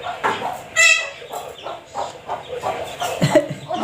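Chickens and chicks cluck and peep close by in a rural Chhattisgarh village yard, a busy irregular run of short calls, with occasional faint talk in the background.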